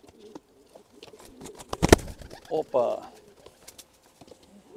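Pigeons of a select fancy breed coo in short throaty bursts around a loft, with flapping and shuffling noises, a man's brief spoken words in between and a loud close thump midway.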